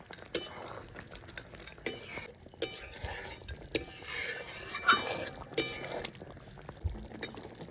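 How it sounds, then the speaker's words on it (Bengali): A spoon stirs mutton curry in a pan after garam masala powder and fresh chopped coriander go in, with irregular scraping clinks and soft wet mixing sounds at close range, no voices. "এবার ভালো করে মিশিয়ে নামিয়ে নেব"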